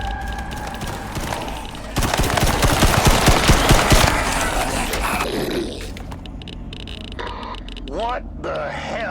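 Automatic turret gunfire rattles in rapid bursts inside an underground laboratory in Icarus, loud and close, then gives way to lower mechanical rumble and scattered electronic tones.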